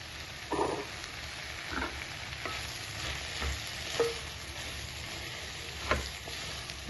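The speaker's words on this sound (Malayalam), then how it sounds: "വഴന്നിട്ടുണ്ട് നമുക്ക് ഇതിൻ്റെ അകത്തോട്ട് സോയാബീൻ ഇട്ട് കൊടുക്കാം" Washed, pre-boiled soybeans frying and being stirred in a pan with softened tomato for a kurma, a steady close sizzle with occasional scraping stir strokes, no talking.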